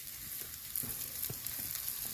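Vegetables fry in a pan for pasta with a soft, even sizzle and a few faint scrapes, quiet and close, with no voices.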